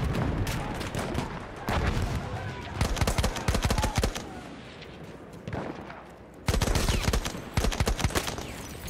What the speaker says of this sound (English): This gun sounds cool.